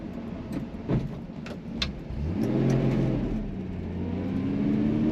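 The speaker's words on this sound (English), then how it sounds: "for a straight 6, just rev it up a little bit" A 1966 Ford Mustang coupe's straight-six engine revs up and settles back, with a steady mid-pitched engine drone that climbs and falls in pitch, heard close and clear with no talking.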